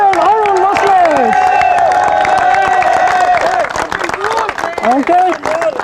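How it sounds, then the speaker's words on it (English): A crowd applauds and cheers for a cricket team captain at a T20 league closing ceremony in Helsinki, with loud, dense clapping mixed with shouts and overlapping voices throughout. "I would like to request you all to give a big round of applause to the captain, Arun Muslet."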